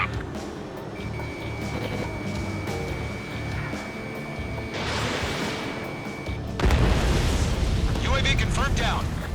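A UAV is shot down in Ace Combat 7 over a steady jet engine roar. The explosion lands as a heavy rumbling burst near the end, with a faint warning tone partway through and game voice chatter present.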